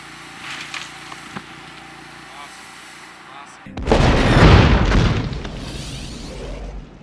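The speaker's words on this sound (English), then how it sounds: "that's how we pulled off that explosion" Staged pyrotechnic explosion on a war film set: a quiet stretch with faint knocks, then a sudden loud boom that rumbles on and slowly fades.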